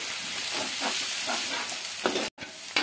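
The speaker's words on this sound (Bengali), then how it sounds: "এখন হাই ফ্লেমে রেখে এটা আমি একটু ভাজার মতো করে নিচ্ছি" Two cracked eggs fry in a pan over high flame, sizzling loudly and evenly with soft stirring scrapes and a brief break before the frying noise resumes.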